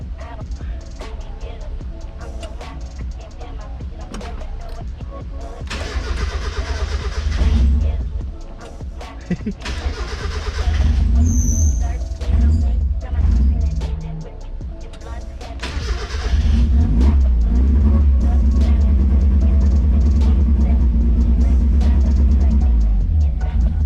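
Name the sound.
Mazda Miata engine first start on Speeduino EFI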